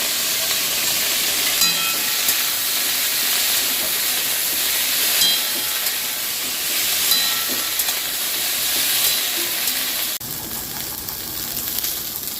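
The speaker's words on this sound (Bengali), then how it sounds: "ঢ্যাঁড়সটা একটু ভালো করে ভেজে নেব।" Okra fries in hot oil with a loud, steady, close hiss and crackle that continues throughout, dipping slightly in level toward the end.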